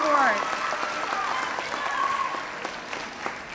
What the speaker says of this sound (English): Let's give a round of applause for those students that will be presented with the Presidential